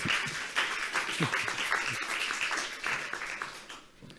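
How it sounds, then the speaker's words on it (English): Audience applause after a speaker's talk at a youth-involvement session of a regional annual forum, steady clapping from a room of people lasting the whole stretch and fading slightly at the end, with faint murmuring underneath. "A round of applause for Sławomir TOKARSKI, please."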